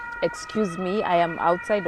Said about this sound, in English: that's the ambulance. I'm sure there's someone critical ill being taken for an